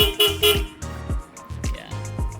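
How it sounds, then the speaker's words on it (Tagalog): A DA17W 4x2 automatic turbo low-roof van sounds its horn in several short honks, close and loud, with brief gaps of engine idle between the blasts. "Busina, gumagana rin."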